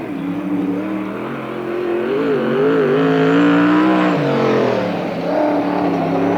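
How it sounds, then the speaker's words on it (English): A NARC sprint car, number 72, races around the Marysville, California dirt oval during qualifying, its engine roaring loud and steady with rising and falling pitch as it rounds the turns, alone with no talk. "On the clock right now, one of our visitors from Grass Valley is Jeff Hallub. Jeff Hallub in car number 72"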